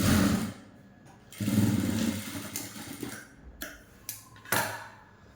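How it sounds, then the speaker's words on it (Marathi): A sewing machine stitches around a garment neckline after the inner facing strip is folded, running in several bursts of a steady motor whir with short pauses and light ticking between runs, close and fairly quiet. "नंतर आपल्याला इथं शिलाई मारून घ्यायची आहे"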